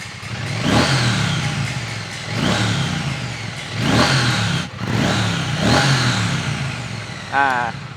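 A 2020 Triumph Bonneville T100 Bud Ekins motorcycle engine revs loudly four times in a row, each rev rising and falling, ending with a short sputter.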